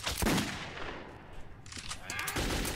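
Bursts of gunfire in the first-person shooter Metro 2033, loud and close at the start, then fading and returning with a ragged rattle, with no talking over it.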